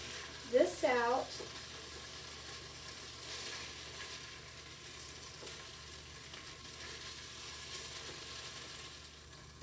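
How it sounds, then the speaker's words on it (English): Beef sears in a pan with a steady, soft sizzle throughout, while a voice talks briefly near the start. "The beef should sear for about 2 to 3 minutes."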